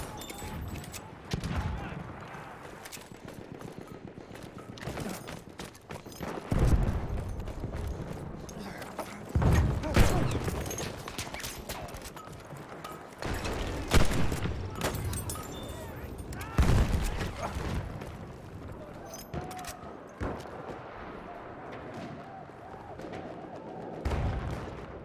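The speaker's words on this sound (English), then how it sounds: "Machine gun! One of theirs!" Battlefield 1 combat with rattling machine gun bursts and scattered gunshots echoing at middle distance, repeated in irregular volleys over a constant background of battle noise, with voices shouting in between.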